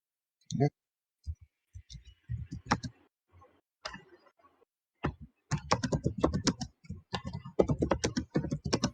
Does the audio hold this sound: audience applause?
no